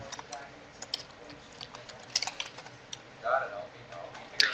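Fingers typing on a computer keyboard, a quiet, irregular patter of key clicks with a few slightly louder taps, heard faintly beneath a person talking.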